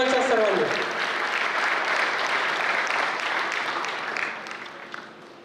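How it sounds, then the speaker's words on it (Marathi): An audience at a ceremony honouring a successful student claps in a steady, dense wash of applause for about five seconds, tapering slightly at the end; a voice is heard briefly over the start. "टाळ्या वाजवायच्या सर्वांनी."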